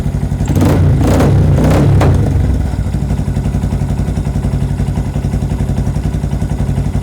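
A 2025 Honda Grom SP motorcycle engine with an exhaust header leak revs up in a few quick, loud blips, then settles into a close, rapidly pulsing idle with a ticking, chuffing exhaust.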